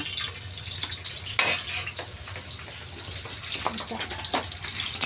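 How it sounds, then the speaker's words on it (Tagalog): Garlic and onion sizzle in a hot pan while sautéing for squid pancit palabok, a steady close crackle and hiss broken by a sharp clatter of stirring and a few utensil scrapes. "nagigisa na tayo ng bawang at sibuyas"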